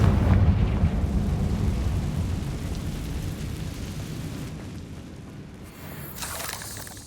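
The Confringo fire spell from the video game Hogwarts Legacy goes off as a deep, rumbling explosion that starts loud, then slowly fades into a long low roar with a faint rushing tail.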